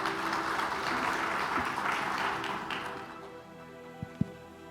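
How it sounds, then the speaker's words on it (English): Audience applause fills a hall at a business summit's ministerial panel session, steady broadband clapping that fades out after about three seconds, followed by a couple of sharp thumps near the end. "A round of applause, please, for David and the panel as they begin."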